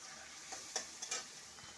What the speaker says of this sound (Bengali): পেঁয়াজের সাথে একটু শুটকি মাছটা ভাজবো